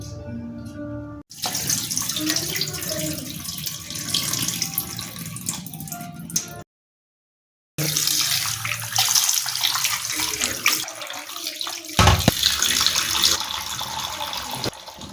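Raw goat liver is rinsed under a running kitchen tap, a loud, steady gush of water splashing into the sink, broken by one brief silent gap and a few shifts as the pieces are handled.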